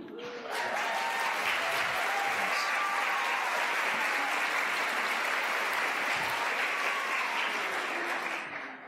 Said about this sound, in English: Don't clap too loud.